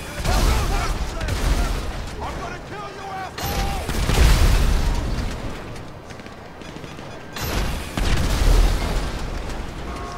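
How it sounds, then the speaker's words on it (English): Rocket launcher blind-fired around a corner in GTA V Online, with heavy booming blasts near 0.3, 4 and 8.5 seconds over constant game noise and rumbling debris, and low voices talking faintly underneath. "blind fired a rocket around the corner"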